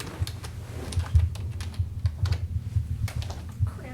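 Steady keyboard typing, a rapid run of soft, close clicks and key taps with brief pauses, fairly quiet and alone.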